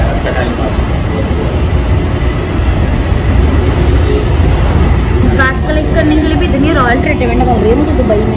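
An airport baggage shuttle train in Dubai rumbles loudly and steadily, with a rising whine and squealing tones near the end as it runs along its track.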